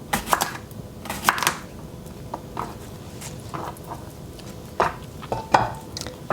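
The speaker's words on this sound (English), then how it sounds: "A little bit of cucumber. We'll just slice up a couple more slices." A knife slices cucumber on a plate in a home kitchen, giving a few scattered light taps and clicks of blade meeting plate, soft and close with gaps between cuts.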